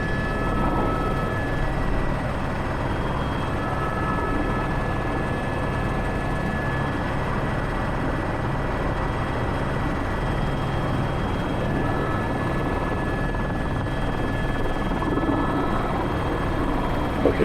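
A helicopter flies a concrete bucket-sling job, its steady, close, loud engine whine and thudding rotor drone running without a break the whole time.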